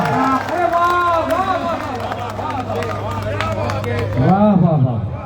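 Thin, scattered audience clapping at a mushaira poetry gathering in Mira Road, Mumbai, mostly buried under loud, close voices that dominate throughout.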